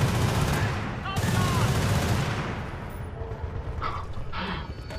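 Gunfire in the video game Battlefield Bad Company 2, bursts of dense rapid shots at the start that fade into scattered distant reports and mechanical clatter.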